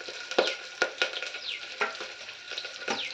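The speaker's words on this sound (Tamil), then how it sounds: "எல்லாத்தையும் சேர்த்து எண்ணெயிலேயே நல்லா வதக்கலாங்க" Dried red chillies, curry leaves and crushed garlic sautéing in hot oil for a thattapayiru kadayal, a close crackling sizzle broken by sharp spatula taps and scrapes as the pan is stirred.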